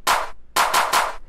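Original clap sample carrying the mid-range of a UK bass clap: one broad, bright hit followed after a short gap by three quick rattling hits in a row, loud, close and alone.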